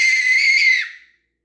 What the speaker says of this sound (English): No screaming.